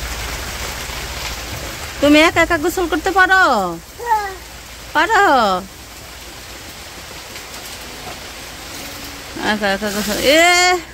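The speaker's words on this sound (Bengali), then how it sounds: "আবার এই যে হঠাৎ করে বৃষ্টি শুরু হয়ে গেছে" Sudden steady rain hisses in the background in a Bangladeshi village while an adult and someone talk over it in short phrases.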